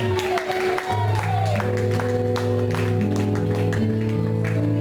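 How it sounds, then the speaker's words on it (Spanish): Worshippers at a church sermon applaud to the glory of God, scattered sharp claps rising over sustained keyboard chords and a murmur of voices. "¿Cuántos le dan un aplauso a la gloria de Dios?"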